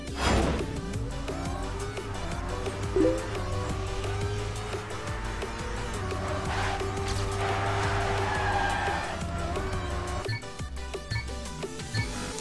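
A car drifts in the Trackmania racing game, engine tones and squealing tires rising and falling against continuous game music, with brief sharp skids and clacks scattered throughout.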